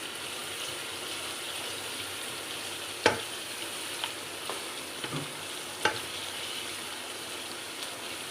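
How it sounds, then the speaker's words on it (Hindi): Mutton pulao frying in a pot on a stove, a steady broadband sizzle throughout with a few sharp clinks of a stirring spoon against the pot. "जिसको अब मैं थोड़ी देर भून लूँगी।"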